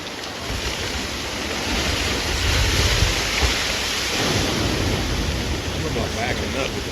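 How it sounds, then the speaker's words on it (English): A freak tsunami wave rushes ashore in a loud, continuous roar of churning water and surf that swells around the middle and holds steady throughout, with no clear voices. "What they weren't expecting was a freak tsunami to wash ashore."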